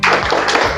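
Rhythmic group clapping from a class of students doing a patterned motivational clap, loud and close, a short burst of sharp claps with a brief pause.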